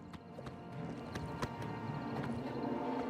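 Horse hooves clip-clop along in Oblivion Remastered, an even run of close, crisp hoofbeats with no voices over them.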